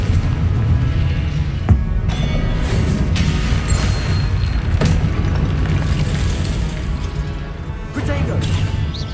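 Blasting curse explosions and spell impacts crash through a Hogwarts Legacy wizard duel, with repeated booms and cracks over a dense, constant battle din and background music.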